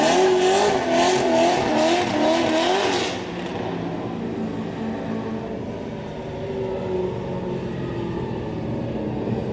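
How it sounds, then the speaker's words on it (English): Drift cars racing at a Great Lakes Pro Am event, one a supercharged LS-swapped FRS, roaring loudly with wavering engine revs for about three seconds before fading into a steady, more distant engine rumble. "on the line there, Elliott Rose in the supercharged LS FRS, I believe it technically is"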